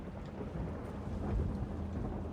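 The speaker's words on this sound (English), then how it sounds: "Oh, lightning. I thought it was a glitch." Thunder rumbles alongside steady rain in a horror video game, a continuous low roll that swells slightly partway through, heard alone without voices.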